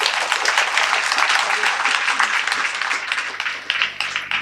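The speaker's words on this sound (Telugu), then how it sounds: "గట్టిగా చప్పట్లు కొట్టండి" A large crowd applauds at a youth meditation gathering, dense continuous clapping that stays loud and steady throughout with slight swells, no voices over it.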